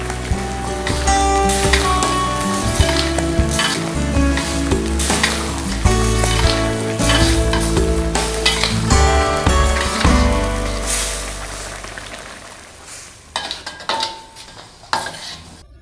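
Basil leaves are stirred into a sizzling green chicken curry, with a loud, busy mix of metal utensil scraping and clanking against the pan over steady sizzling, tapering off to a few sparse clinks at the end.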